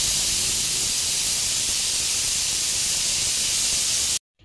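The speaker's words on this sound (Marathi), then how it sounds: "इथे कुकरचं झाकण लावून कुकरच्या 3 शिट्या काढून घेऊया।" A pressure cooker on the stove with dal khichdi inside vents steam in a loud, continuous hiss heard up close, then cuts off abruptly just before the end.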